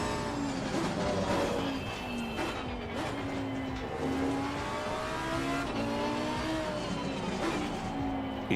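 Race car engines roar continuously in Assetto Corsa Competizione during a practice session at Silverstone, their revs climbing and dropping through repeated gear changes, loud and close, with hints of tire squeal and no talking.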